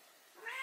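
A pet cat gives one short, faint meow that rises in pitch at the very end of a quiet moment.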